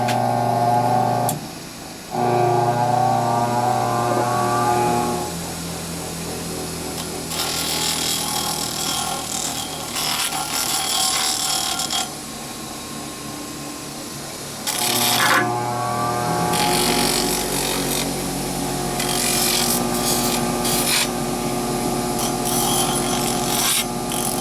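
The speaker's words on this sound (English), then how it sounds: "I think I might go do the rest on the bench grinder." A bench grinder grinding an air dryer part runs steadily for the whole stretch, with a constant motor whine and bursts of harsher grinding noise as the part is pressed against the wheel, close and loud with no talk.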